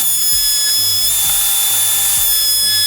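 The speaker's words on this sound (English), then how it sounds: "So now, using my primitive coping sled, I could just profile the end of the mullion." Router cutting a profile into the end of a wooden mullion held on a coping sled, running as a loud, steady high whine with faint ticking through the whole stretch, close by and with no talk.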